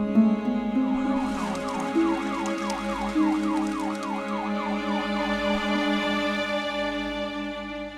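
Ambulance siren wailing in a steady up-and-down rhythm over a low engine drone and music, rising from about one second and fading slightly near the end, loud and continuous.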